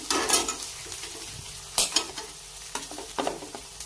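Green chilies and spices hit hot oil for a restaurant-style dal tadka, producing a close, hissing sizzle with bursts of scraping stirring and a few sharp clinks.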